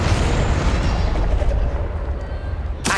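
A Confringo fire spell explodes in Hogwarts Legacy, a loud, deep, rumbling blast that fills the whole moment and ends in a brief sharp burst.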